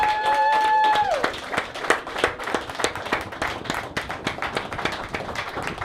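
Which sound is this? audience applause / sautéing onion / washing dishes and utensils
audience applause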